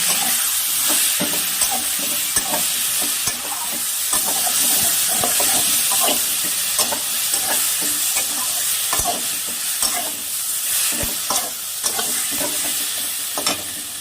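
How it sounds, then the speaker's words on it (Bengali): Onion-ginger spice paste with chili powder frying and being stirred in a pan for chital fish curry, a steady close sizzle and hiss broken by frequent scraping stirs, with no voices. "এবার মশলাটা ভালো করে কষিয়ে নেব।"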